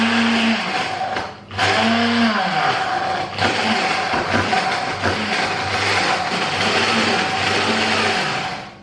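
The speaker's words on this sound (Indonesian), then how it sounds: "Dan sekarang kita tinggal blender aja." An electric blender grinds shallots with red and curly red chillies into a coarse paste for a village-style vegetable curry, a loud continuous whirring roar whose motor pitch dips and recovers a few times.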